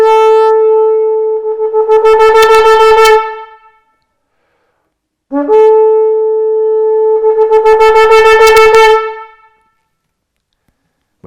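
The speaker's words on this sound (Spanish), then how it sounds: "Son un sonido con 9 sonidos con sucesiones cortas y suena así." A shofar sounds the teruah call: two loud, close horn blasts, each holding a bright, steady tone before breaking into rapid short pulses, separated by a silent pause.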